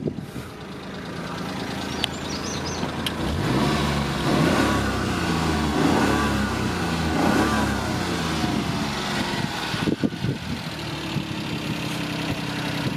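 A 1993 Daihatsu Atrai van engine cranks, catches and idles, then revs up and down several times in a mid-pitched, buzzy tone, heard close by with no talking.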